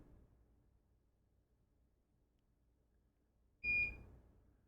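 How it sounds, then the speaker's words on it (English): A single short, high electronic beep rings out clearly after a stretch of quiet hum in a repair shop where old electronics are refurbished, followed by a brief burst of broadband noise. "Beep."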